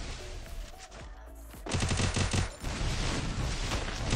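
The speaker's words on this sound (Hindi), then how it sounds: "मुन्ने को दो डैमेज, दो गोली दिया मुन्ने को।" Gunshots in the Free Fire video game: scattered shots at first, then a dense burst of rapid automatic fire, moderately loud, with no talk.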